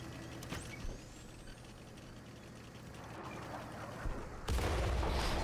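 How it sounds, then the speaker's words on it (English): A low-tier artillery shell slams into a tank in World of Tanks: a steady engine rumble with faint distant shots, then a sudden loud, broad blast that carries on as a heavy roar. "And artillery. At least it's a low tier artillery, but that's really weird where he hit me."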